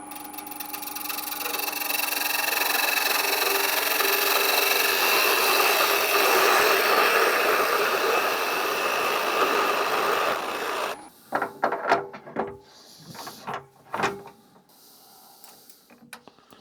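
An off-centre piece of scrap mounted between centres spins on a lathe, giving a loud steady whirring drone for about eleven seconds. The machine then stops, leaving a few close clunks and knocks.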